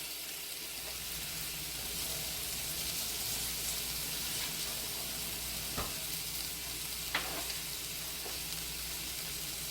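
Bacon sizzles in a cast iron skillet, a loud, steady, close frying hiss that runs unbroken throughout, with a couple of faint clinks partway through.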